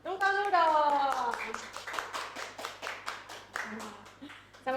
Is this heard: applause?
yes